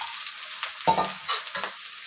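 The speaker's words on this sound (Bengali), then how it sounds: "আমার তেলটা গরম হয়ে গেছে, আমি এবার পেঁয়াজ কুচিটা দিয়ে দেব।" Chopped onion drops into hot oil for a Bengali chicken kasha, a loud sizzling burst followed by uneven bursts of frying crackle as the pieces are stirred, close and without speech.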